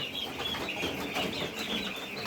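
Fifteen-day-old bronze turkey chicks chirp in a busy, overlapping chorus of high peeps, close and continuous with no talk.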